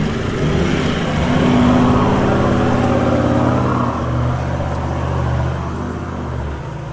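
A 4x4 towing a trailer climbs a slope off-road, its engine a loud, close, sustained drone that rises slightly in pitch and then eases off, with no talk.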